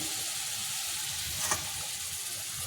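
Small onions and garlic cloves fry in oil tempered with cumin and dried red chilli, a dense continuous sizzle heard close with one brief scrape midway, no voices.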